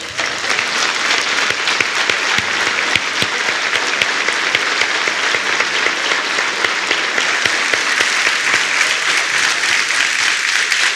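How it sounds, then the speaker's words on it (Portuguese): Men in a church congregation stand and applaud a group of women, a loud, dense, sustained burst of many hands clapping together that fills the room steadily without letting up. "os homens vão ficar de pé e aplaudir de pé essas mulheres"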